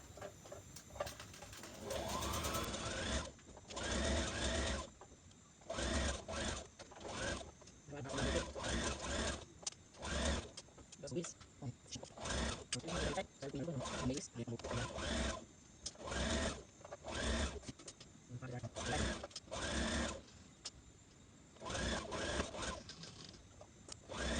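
A sewing machine stitching a misses' dress sleeve runs in repeated loud mechanical bursts with short pauses between them, close up, while a person talks over parts of it.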